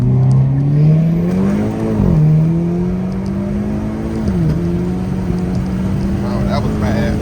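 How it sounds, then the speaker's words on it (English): A Hyundai Kona N pulls hard at full throttle from inside the cabin, engine note climbing steadily with two sharp dips at gear shifts, loud and continuous throughout. "Try to get one more full throttle pull in."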